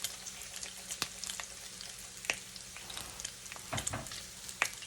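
Bacon frying in a pan, giving a steady, quiet crackle and sizzle with scattered sharp pops and a few faint stirring scrapes, heard up close with no talking.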